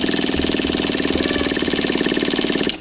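A truck engine kept in storage in a basement turns over with the throttle held wide open, giving a steady, loud mechanical churn and rumble that runs continuously for nearly three seconds before stopping abruptly.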